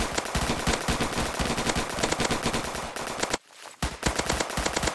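A ghost gun firing in the Roblox Zombie Attack video game, rapid automatic bursts of shots rattling continuously, briefly stopping for a short gap before resuming, with no talking.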